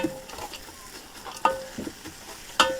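Vegetables cooking in a Ninja Foodi with a pinch of salt, giving a soft, steady sizzle close by, broken by a few sharp clinks and scrapes of stirring, with no talking.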